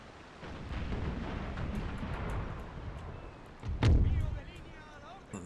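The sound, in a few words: cannon fire from galleons in Empire: Total War video game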